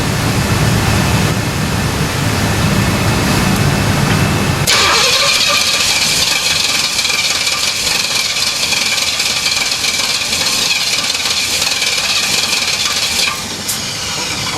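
A 1967 Pontiac GTO engine is cranked over and over without catching. The loud, continuous starter churn runs almost unbroken for about thirteen seconds, shifts in tone partway through and cuts off near the end.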